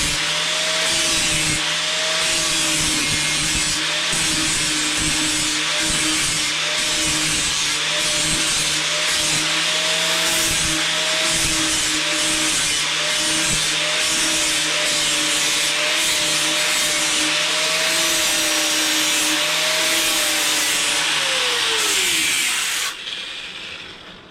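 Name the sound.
grinder grinding a weld on a tube join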